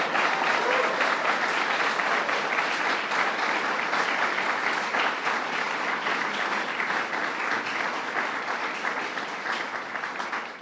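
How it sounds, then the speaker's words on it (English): A crowd at an outdoor bill-signing event in Kingston gives a long, dense round of applause, steady and full throughout with no talk on top. "Let's give it a round of applause"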